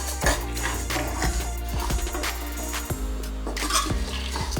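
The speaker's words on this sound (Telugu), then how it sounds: "పచ్చిమిరపకాయలు కానీ ఎండుమిరపకాయలు కానీ వేసుకొని బాగా వేయించుకోవాలి." Green or dried chillies fry in a pan of oil for pappu pulusu, a steady sizzle under repeated scrapes and clinks of a metal spoon against the pan, close and fairly loud.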